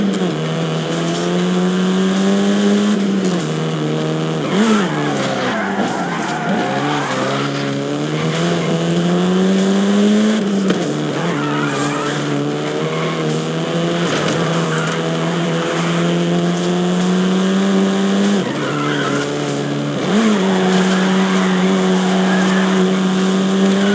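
Car driving in Forza Horizon 5, a loud steady engine drone with rising and falling revs through gear shifts and occasional tire noise, continuous with no talk.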